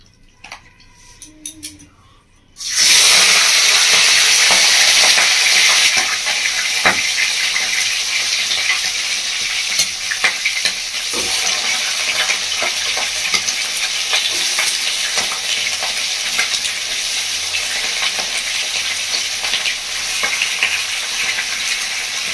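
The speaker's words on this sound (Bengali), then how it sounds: "তো এবার তেলের মধ্যে আমি মাংসটা ভালো করে ভেজে নেব।" Pieces of desi chicken hit hot oil in a kadai and burst into a loud, close sizzle that stays dense and crackling with small spatters, following a few seconds of quiet handling.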